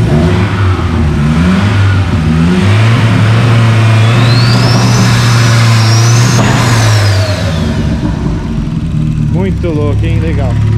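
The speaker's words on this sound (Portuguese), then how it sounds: "Mostra, mostra o barulho da turbina lá pra galera" A turbocharged Ford Escort engine revs hard and steady, with a rising turbo whistle and whoosh on top, loud and close; a voice speaks briefly near the end.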